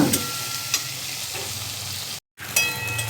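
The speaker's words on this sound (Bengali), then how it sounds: "পেঁয়াজটাকেও আমি হালকা ভেজে নিয়েছি" Onion fries in a pan for eggplant bharta with a constant sizzle and a few sharp stirring scrapes, close by, broken by a brief moment of silence.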